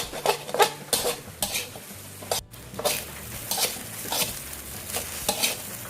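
Day-old cooked rice stir-fried in a hot wok for shrimp fried rice, with steady sizzling and frying under repeated scraping and clacking strokes of a spatula against the pan, close and busy throughout.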